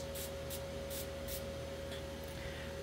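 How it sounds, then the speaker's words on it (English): Spray bottle spraying water onto vintage jewelry, four quick hissing bursts in a row over a faint steady hum. "Let me just see if I spray some water."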